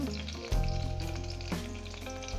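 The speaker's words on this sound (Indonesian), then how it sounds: "bawang merah, bawang putih, cabai, dan jahe. Kita akan menumisnya sampai wangi ya." Shallots, garlic, chili and ginger sizzle in hot cooking oil, a loud steady frying crackle close up, with a sharp surge as the ingredients hit the pan and a brief stirring scrape.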